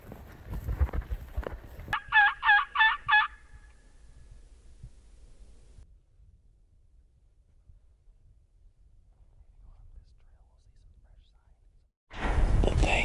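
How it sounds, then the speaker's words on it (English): A rapid, rattling gobble of about five quick pulses from a wild Merriam's turkey in Nebraska's Pine Ridge rings out after a soft whisper, followed by a long quiet stretch and then a burst of wind-like noise. "I just heard a gobble."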